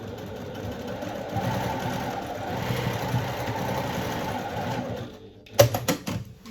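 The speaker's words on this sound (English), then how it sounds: "I'm actually just going to bring it over and sew" Sewing machine stitching a strap seam on a slouchy bag, a steady close mechanical whir running for about five seconds before stopping, followed by a few brief clunks and handling knocks.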